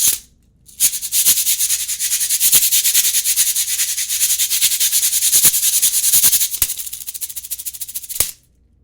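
A percussion instrument is scraped in a steady, rapid rasping rhythm for several seconds, loud and close, with a few sharper strokes and a short pause near the start.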